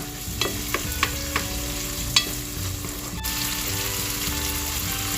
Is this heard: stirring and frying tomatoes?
yes